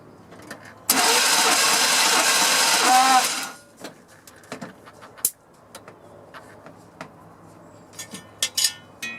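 A 1998 Chevy 1500 Cheyenne engine cranks in a loud steady whir for about three seconds, then catches and settles, followed by quieter clicks and knocks nearby.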